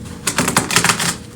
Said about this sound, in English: let's get the cards all spread out and shuffled for you.